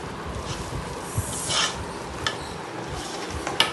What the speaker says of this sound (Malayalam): നന്നായി കുഴച്ചെടുക്കണം. മഞ്ഞളും കുരുമുളക് പൊടിയും മസാലപ്പൊടിയും എല്ലാം പിടിച്ച് നന്നായി വേവണം.